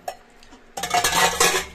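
Dirty plates, pots and cutlery clatter and scrape as they are gathered up in a home kitchen, a sharp clink at first, then a dense, loud run of clanking metal and ceramic, with no talking.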